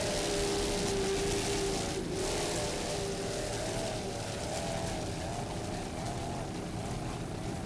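Super V class powerboats racing close together early in a race, a continuous droning engine roar with slight pitch shifts, heard from a distance.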